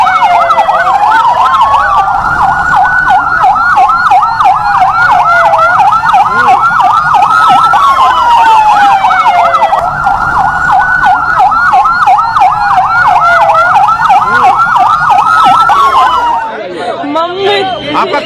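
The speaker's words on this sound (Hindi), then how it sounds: "ये तस्वीर आप देख रहे हैं, एलएनजेपी से एम्बुलेंस एक एक कर निकली है।" Ambulance sirens wail continuously and loudly as ambulances pull out one after another from LNJP hospital in New Delhi, the rising and falling tones overlapping, with voices faintly chattering underneath.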